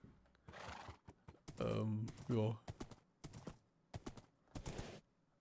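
A horse in Minecraft whinnies loudly twice amid hoof clops and other game sounds, with someone speaking quietly in between.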